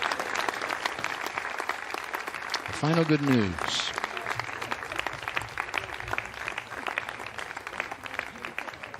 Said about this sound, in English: You see the applause, you hear the applause.